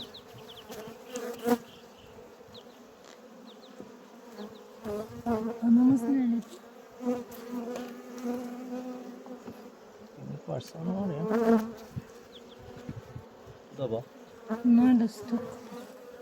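Honeybees buzz continuously around hives during a spring inspection after winter, carrying pollen, their droning hum steady and close throughout with occasional louder passes near the listener and brief human sounds in between.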